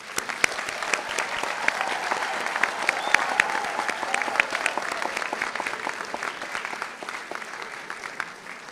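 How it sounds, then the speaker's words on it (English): Audience at a university commencement ceremony for arts, sciences and graduate studies breaks into sustained applause, dense even clapping from a large crowd that carries on for several seconds without pause. "Let us join in tribute with a rousing round of applause for today's promising"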